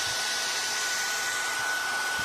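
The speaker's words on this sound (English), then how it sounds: "So now I'll take my heat gun and I'll dry it." A heat gun blows steadily while drying black ink on a gourd, a continuous loud airy hiss with a faint whine, unbroken throughout and with no talk.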